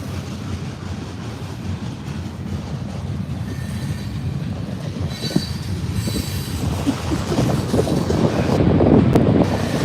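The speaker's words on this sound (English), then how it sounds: "to get down into the waterfront you have to wait for the train to go by" A long train rolls past on railroad tracks near a riverside waterfront, a steady loud rumble of wheels and cars with metallic squealing that swells louder toward the end, no talking.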